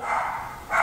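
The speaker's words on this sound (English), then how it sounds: "I can hear my puppy dog barking." Puppy barking indoors, a single short yip-like bark rising briefly, faint and somewhat distant, with another bark starting at the end.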